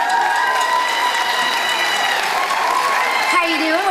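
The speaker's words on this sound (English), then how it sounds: "give them a big round of applause" A concert crowd breaks into dense, continuous applause as volunteers come up on stage, with cheering and ringing tones mixed into the sustained roar.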